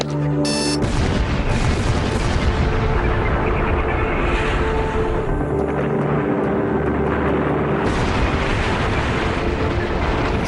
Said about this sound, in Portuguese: A explosão parecia fogos de artifício.